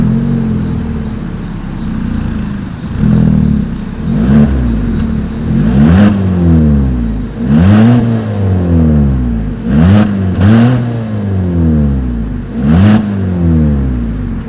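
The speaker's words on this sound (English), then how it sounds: "As always, here is that exhaust clip." A 2020 Hyundai Kona engine revs repeatedly through its exhaust, several sharp throttle blips rising and falling over a steady idle, loud and close.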